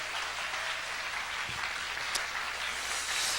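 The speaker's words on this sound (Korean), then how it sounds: "이런 박수 못 받아봤다 할 만한 큰 박수로 환영합니다" A church congregation at an evening revival service gives a big round of applause to welcome the pastor, a steady wash of clapping that holds evenly from start to finish.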